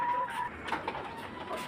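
Layer hens kept in cages on a poultry farm cluck and chirp faintly over a steady background hum, with no talking.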